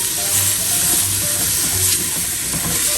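Half a stick of butter sizzles and hisses steadily in a risotto pan, a close, continuous frying crackle with faint low bubbling underneath and no talking.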